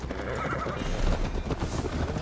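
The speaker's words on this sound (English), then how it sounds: "Mount up, Eivor. It's a long ride to Tamworth" Horse riding in the video game Assassin's Creed Valhalla: steady hoofbeats with a whinny over a dense, continuous game soundscape, loud and close for the whole stretch.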